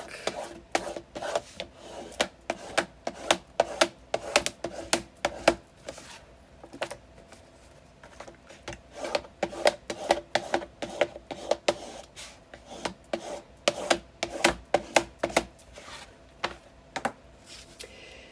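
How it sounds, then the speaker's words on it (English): A burnishing tool rubbed over score tape on paper while making the outside cover of a jumbo scrapbook album gives rapid, irregular scratchy strokes in close bursts with short pauses, crisp and near. "I'm going to take my burnishing tool and just burnish all of the score tape on this really quick."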